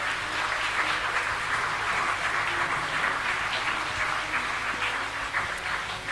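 An audience applauds and cheers for young chess champion Romain Edouard at a Bordeaux Grand Prix chess event, a dense, steady roar of clapping from a large crowd holding at a constant level throughout.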